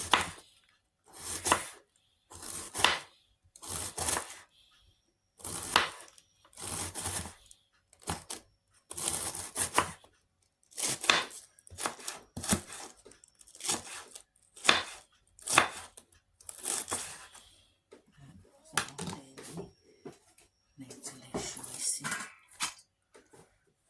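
Cabbage finely chopped with a knife on a board, bursts of rapid crisp knife strikes separated by short pauses, close and clear.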